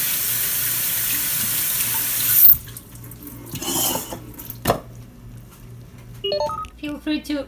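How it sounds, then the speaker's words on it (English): Red lentils being strained and rinsed under a running kitchen tap, a steady gush of water that stops, followed by faint clinks and handling noises. "Strain and rinse your lentils."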